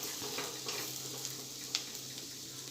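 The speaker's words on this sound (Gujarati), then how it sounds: "બધું સરસ મિક્સ કરી લઈશું અને મસાલાને આપણે અડધી મિનિટ સાતળી લઈશું" Spice masala for Rajasthani malai pyaz sabji sautéing in a pan, a faint steady sizzle with a few soft stirring clicks, no talk.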